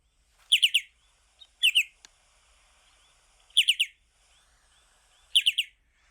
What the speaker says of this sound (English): Now the flight call of the short-billed dowitcher is a little bit different.